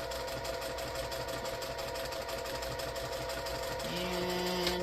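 A sewing machine stitches a quilt border seam on a table runner, back stitching with a steady rapid mechanical whir that picks up pitch near the end.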